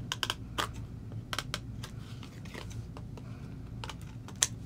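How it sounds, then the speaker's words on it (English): Trimming excess paper along the edge of pink cardstock, heard as a series of short, crisp snipping and clicking sounds in irregular bursts, close by and with no talking. "So go ahead and trim this away."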